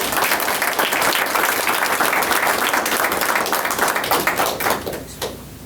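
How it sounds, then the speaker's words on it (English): Applause from an audience at a school district board of education meeting for two staff members, dense steady clapping for several seconds that thins and fades toward the end. "So I'd like a round of applause for those 2 ladies."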